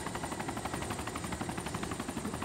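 Helicopter in the DayZ survival game, a steady, dense rotor chop and engine drone filling the whole stretch at moderate distance, with no voices over it.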